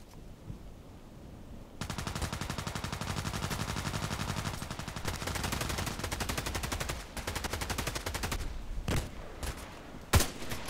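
Rapid sustained fire from an HK417 rifle in a sniper video game: a dense, loud burst of shots running several seconds after a quiet lead-in, followed by a few separate sharp cracks near the end.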